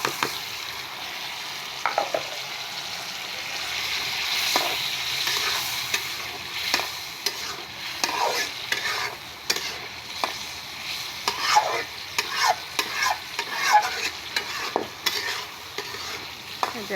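Pointed gourd and potato pieces being sautéed in a pan, with steady frying sizzle and repeated scraping stirs of a spatula across the metal, close and continuous with no talking.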